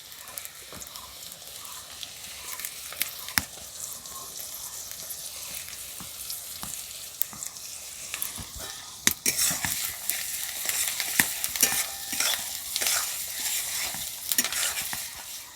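Chopped garlic and ginger sizzle steadily in hot oil in a pan for a dhaba-style egg tadka, with repeated scraping stirs of a spoon throughout; the frying grows louder and busier partway through.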